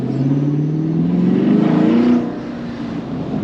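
A sixth-generation Camaro engine with a new air intake revs up with a rising, throaty drone, holds loud for a moment, then drops back to a steadier lower hum.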